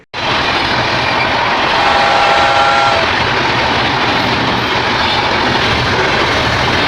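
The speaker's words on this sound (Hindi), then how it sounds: "ट्रेन को निकल जाने दिया" A train rolls past close by, a loud continuous rumble and rattle of wagons that holds steady for the whole stretch, with a faint high tonal squeal partway through and no voices.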